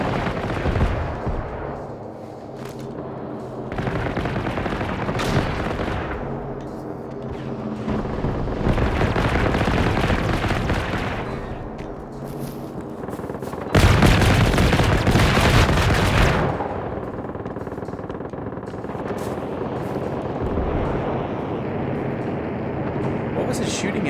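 Gunfire crackles through a Generation Zero game fight in long, dense bursts of rapid shots and booms that swell and fade, with voices talking over it.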